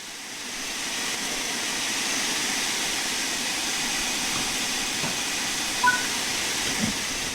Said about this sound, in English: the cylinder should have been blown clear by the steam jetting out of them